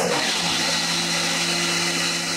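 A Cookwell electric mixer grinder runs steadily while blending juice, a constant loud motor whine and whir close by, with no pauses or voices.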